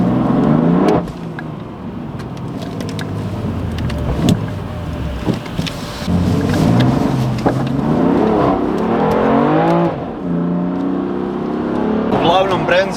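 A BMW M3 on winter tyres accelerates hard, its engine note sweeping up and falling back through several gear changes, loud and close, with talking over it.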